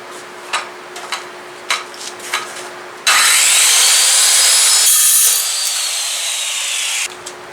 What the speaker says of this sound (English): I'm going to start out by cutting a 1 1/4 inch strip with the skill saw and a Diablo blade.